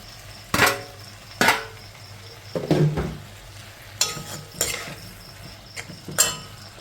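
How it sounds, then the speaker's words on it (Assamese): Smoked pork and potato pieces stirred in a pan, with several sharp scraping and clattering strokes over a low, steady frying background, close and fairly loud, no voices. "আলুখিনি দি এতিয়া এইখিনি অলপ সময় ফ্ৰাই কৰোঁ"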